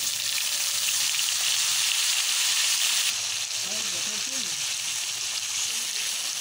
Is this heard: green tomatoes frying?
yes